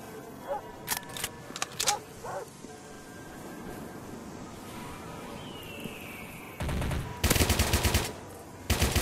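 Gunfire in the video game Commando Shooting, a few scattered sharp shots early on, then a loud rapid burst of repeated shots near the end, with quieter game ambience between.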